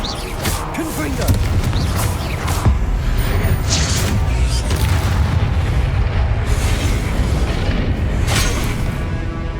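Confringo blasting curse in the Hogwarts Legacy video game, heard as repeated booming explosions and crashing bursts in a dense, noisy battle, with voices over the top.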